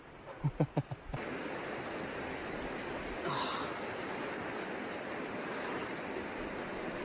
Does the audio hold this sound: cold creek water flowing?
yes